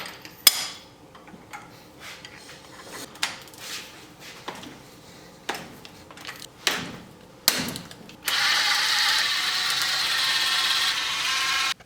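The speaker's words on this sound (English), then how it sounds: "let's start by pulling the spark plugs on some Civic" Ratchet working spark plugs out of a 1996-2000 Honda Civic engine: scattered close clicks and short metallic taps, then a steady bright rasp of continuous ratcheting near the end.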